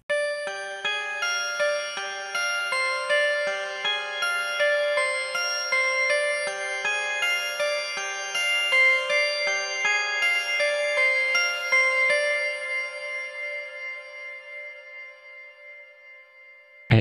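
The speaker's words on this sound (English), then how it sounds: "I make melody using closed grand piano." A closed grand piano patch in FL Studio Mobile plays a bright, steady melody of evenly spaced notes over about sixteen seconds, clear and alone with no voices, ending in a short abrupt click.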